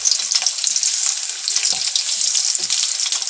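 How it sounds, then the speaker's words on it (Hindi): Potatoes frying in hot oil in a karahi, a dense, bright, continuous sizzle with crackling pops throughout, close and loud with no talking. "ऑयल गरम हो गया है, ये देखें, आलू डाल देंगे। इनको हम अच्छी तरह फ्राई कर लेंगे।"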